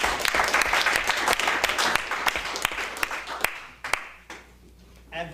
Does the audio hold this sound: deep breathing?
no